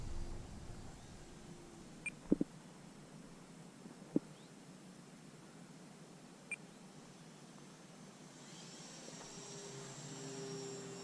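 A Timber Turbo RC model plane flies at a distance, its faint, steady whine sitting low under outdoor background noise, with a few brief clicks and beeps.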